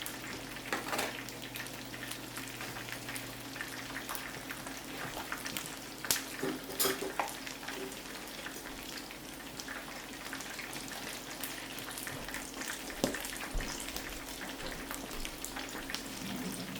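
Chicken fries in a pan with a soft, continuous sizzle and crackle, quiet and steady throughout, broken by a few faint clinks.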